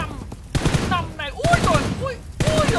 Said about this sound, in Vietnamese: anh em thấy bắn điểm xạ sướng không?